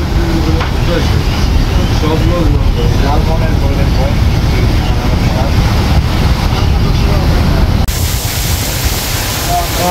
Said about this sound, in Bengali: নদীতে এই মুহূর্তে প্রচুর বৃষ্টি হচ্ছে।